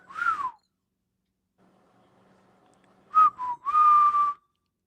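A bird's clear whistles: one short sliding note, a pause, then a quick sequence of sustained whistled tones, close and alone.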